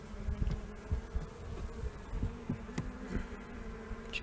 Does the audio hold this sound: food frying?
no